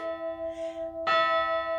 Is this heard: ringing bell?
yes